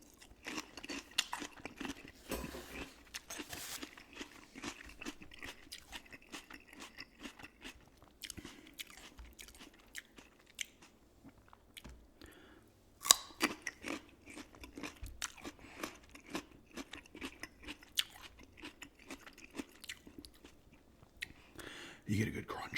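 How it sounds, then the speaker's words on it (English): Crunchy raw carrot and other vegetables dipped in ranch are bitten and chewed close to the microphone, giving quiet, irregular crisp crunches and wet mouth sounds, with soft talk mixed in. "You get a good crunch out of both the carrot and the"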